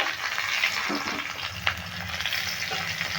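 Small fish parcels wrapped in gourd leaves fry in hot oil and are turned over, giving a steady close sizzle with a few soft stirring and flipping knocks.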